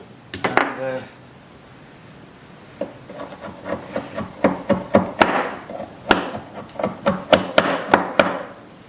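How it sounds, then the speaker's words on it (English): A knife carves and trims a part of an old English wooden hay rake made from scrap, giving a series of close, rhythmic rasping scrapes in uneven bursts after a brief clatter at the start. "I'm having to do this the old way, with a knife"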